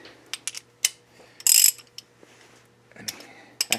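Ratchet clicks while a 14 mm bolt is loosened on the suspension of a 1998 Subaru Outback during ball joint replacement; several short, close mechanical clicks come in bursts with a louder metallic rasp in the middle and pauses between.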